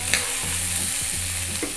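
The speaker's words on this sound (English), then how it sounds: "We're going to drop in all of those chilies." Chilies hit a hot pan for an eggplant pepper fry and sizzle loudly and steadily up close, with a few soft stirring scrapes under the hiss.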